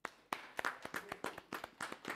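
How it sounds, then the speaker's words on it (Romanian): Audience applause at a Romanian comedy show in Vadul lui Vodă, a burst of scattered, uneven hand claps that starts abruptly and continues steadily, fairly close and moderately loud, with no talking. "Aplauze, ribeata."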